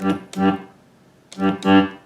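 Two short accordion bass phrases from a song, each a pair of punchy notes in a dotted eighth and sixteenth rhythm, separated by a brief pause, played alone.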